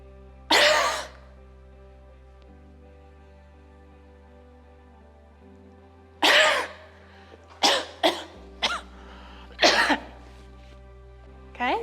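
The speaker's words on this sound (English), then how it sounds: "So huffing looks like this." Forced-breath huffs used to clear mucus from the chest, several sharp, breathy bursts heard up close in a quiet room: one early, then a cluster of short huffs later, separated by silence.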